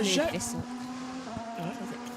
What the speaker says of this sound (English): it's the noise of the cars